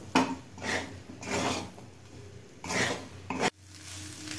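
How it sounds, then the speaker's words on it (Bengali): A spoon stirs tomato sauce into egg chicken pasta in a pan, giving repeated scraping, rubbing strokes in a steady rhythm of about four passes, close and moderately loud with a faint sizzle, and no talking. "এবার 1 টেবিল চামচ টমেটো সস দিয়ে দেব। খুব ভালো করে মিশিয়ে নেব।"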